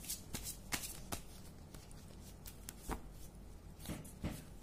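Tarot cards are shuffled by hand nearby, a series of quick riffling snaps and soft flutters in uneven bursts, fairly quiet and with no talk.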